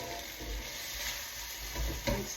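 Chicken and sugar snap stir fry with soy sauce being tipped from a hot pan onto a warm serving platter, a soft continuous sizzle with faint scraping and a couple of small clinks near the end.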